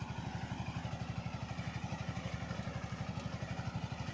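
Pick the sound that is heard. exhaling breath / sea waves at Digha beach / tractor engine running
tractor engine running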